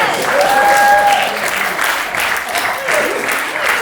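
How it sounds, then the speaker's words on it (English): A variety show audience breaks into loud, sustained applause after a card trick, the dense clapping running steadily throughout with a brief high whistle-like tone early on. "give them a big round of applause"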